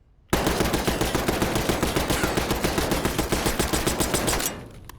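A Tanto .22 SMG fired in a video game in one sustained full-auto burst, rapid evenly spaced shots, loud and close, ending abruptly after about four seconds with a brief tail.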